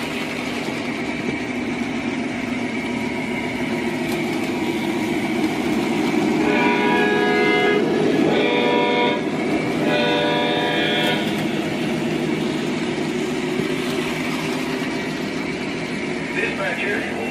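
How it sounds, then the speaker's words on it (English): HO scale GP7 model locomotive running on a layout with a troublesome track section, a steady rumbling drone throughout with a brief horn-like tone in the middle, close and loud. "The HO GP7 seems to have a problem with that one re-rated track."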